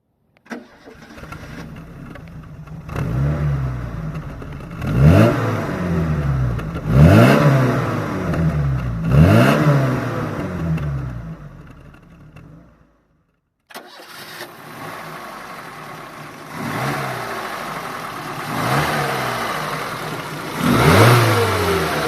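A small Seat Ronda Crono car engine is revved repeatedly in rising and falling bursts, cuts out briefly, then restarts and revs again.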